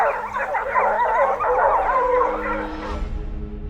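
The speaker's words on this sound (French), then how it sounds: "10 chiens, 10 voix, un seul souffle, celui des biglariers de la Chaume-à-Touvon" A pack of beagle-harrier hunting dogs bays in overlapping howls and yips, loud and close, a dense chorus of voices that fades near the end.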